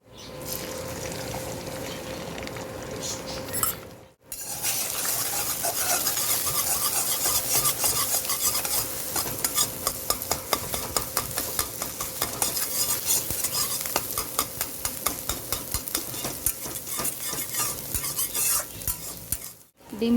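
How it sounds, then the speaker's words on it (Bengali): Beaten egg seasoned with a little black pepper fries in white oil in a wok (kadai), giving a loud, steady, crackling sizzle with scraping stirs that runs for about fifteen seconds after a short, quieter opening. "সবার প্রথমে ডিমটা ভেজে নেব"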